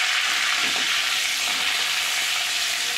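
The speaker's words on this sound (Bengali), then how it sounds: "এবার এই তেলের মধ্যেই আমি দুটো তেজপাতা, দুটো শুকনো লঙ্কা" Bay leaves, dried red chillies and whole cumin seeds tempering in hot oil, a steady, loud, even sizzle and crackle of frying spices that runs unbroken throughout with no voices.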